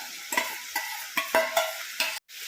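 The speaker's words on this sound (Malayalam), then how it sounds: "ഒന്ന് തിളച്ച് വിനീഗർ ഒഴിച്ചത് ഇതിനകത്തേക്ക് മാങ്ങ ഇട്ട് കൊടുക്കുക" Mango pieces going into boiling vinegar for a mango pickle give a handful of close, evenly spaced stirring scrapes and clinks, about five strokes that end in a short pause.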